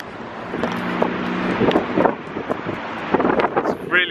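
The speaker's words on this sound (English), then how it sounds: "It's really windy and cold," Wind buffets a microphone beside a pond in Ireland, giving loud, uneven low rumbling gusts throughout, mixed with brief background sounds and a voice near the end.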